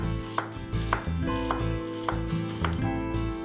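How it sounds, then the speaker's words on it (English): A knife slices an onion into thin slices on a cutting board, giving a brisk run of sharp, evenly spaced chopping taps, close and clear with no voices. "Cut the onion into thin slices"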